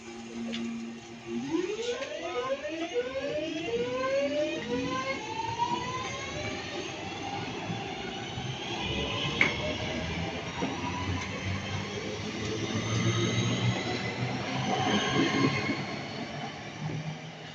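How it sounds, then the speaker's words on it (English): A Class 323 electric multiple unit departing Handforth station on a Crewe to Manchester Piccadilly service, its traction motors whining in rising stepped tones as it accelerates, with rail noise and a steady roar building close by, no talk. "Departing about a minute or two late is the 1616 service to Manchester Piccadilly from Crewe,"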